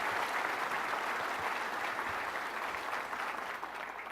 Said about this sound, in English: Everybody give Camilla a big round of applause